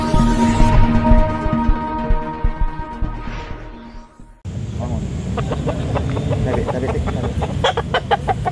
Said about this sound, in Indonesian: merupakan pasar ayam Bangkok terbesar di Sulawesi Selatan